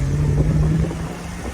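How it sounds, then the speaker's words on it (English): Deep, steady rumble of a 1961 Chevrolet Corvette's small-block Chevy V8 exhaust idling close by, a constant low drone with a faint tonal hum and no talk. "just listen to the sound of the exhaust"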